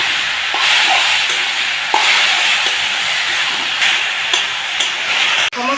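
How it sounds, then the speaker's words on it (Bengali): A taro leaf mixture with salt and turmeric powder frying in a pan gives a loud, continuous close sizzle, while occasional spoon strokes and scrapes of stirring cut in at an irregular pace. "কিছুটা হলুদ গুঁড়ো দিয়ে এখন আমি খুব ভালো করে নাড়াচাড়া করে দেব"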